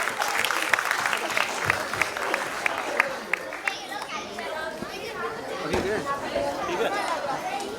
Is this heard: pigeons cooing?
no